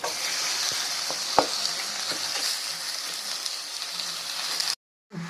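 Chicken pieces fry in a pan with sautéed ginger and garlic for Coimbatore-style chicken, a steady close sizzle with a few stirring knocks, then a brief cut to silence.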